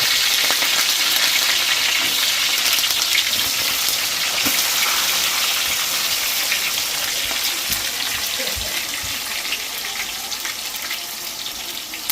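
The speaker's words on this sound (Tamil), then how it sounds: "ரொம்ப கருவேப்பிலை பச்சை மிளகாய் எல்லாம் போட்டு தாளிக்கும்" Curry leaves and green chillies sizzle and crackle steadily in hot oil in a pan, a dense continuous frying hiss with no talking.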